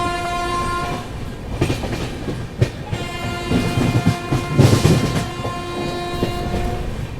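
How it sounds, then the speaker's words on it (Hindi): Duronto Express passenger train running through Mathura Junction at speed, a steady loud rumble and wheel clatter with long horn blasts sounding over it, heard from on board. "अभी उसको ओवरटेक मार के अपनी दुरंतो आगे निकल आई है"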